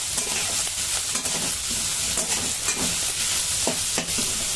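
Broccoli and bell peppers sauté in a hot pan with a constant sizzle, broken by sharp scrapes and clacks as the vegetables are stirred now and then. Close and clear, with no talking.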